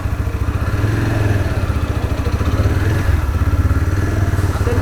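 A TVS Apache RTR 160 4V motorcycle engine running just after starting, a close, loud single-cylinder throb with a steady pulsing beat and slight mechanical clatter, settling into an even idle.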